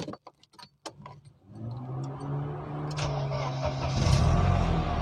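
A Mercedes-Benz W202 C180 being started. Keys clink first, then the starter cranks briefly and the engine catches and settles into a steady idle, then revs slightly. The sound is close and clear, with no talk.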